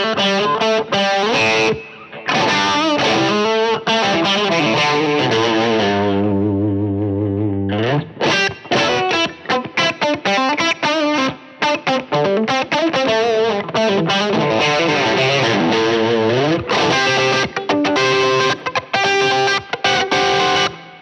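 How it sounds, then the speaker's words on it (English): Electric guitar played through overdrive, gritty and distorted, with a wash of reverb trailing the notes; loud, continuous riffing with a brief sustained chord midway. "Now the minute you put overdrive with that, you hear a little bit more of the artifacts of it"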